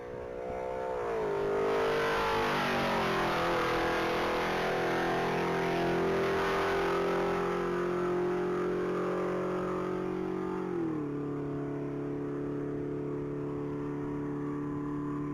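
A white 2007 Ford Mustang on a top-speed mile run at a racing event, its engine roaring steadily and rising in pitch as it accelerates, with a gear shift near the end as the sound begins to fade.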